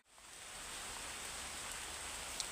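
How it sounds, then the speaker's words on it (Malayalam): Rain begins to fall outdoors during a fishing outing, a faint, even, steady hiss with no other sounds. "മച്ചമാരെ മഴ ചാറി കേട്ടോ, നല്ലപോലെ മഴ പെയ്തു തുടങ്ങിയിട്ടുണ്ട്"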